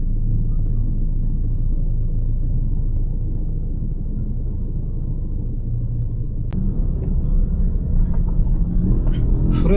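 Steady car traffic rumbles along Fields Avenue in Angeles City, a dense low drone of engines that holds throughout and grows slightly busier near the end, with no talk.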